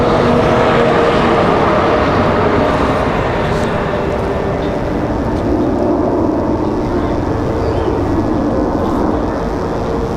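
A CRJ regional jet at Raleigh-Durham airport produces a loud, continuous broadband roar that stays steady throughout, close and unbroken, with possible faint voices underneath.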